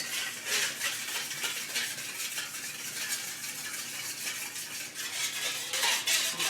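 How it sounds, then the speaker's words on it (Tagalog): Pork and tukwa mixture with calamansi stirred in a pan, rhythmic scraping strokes of a utensil over a soft sizzle, close and steady with no voices. "Mix ko lang siya guys."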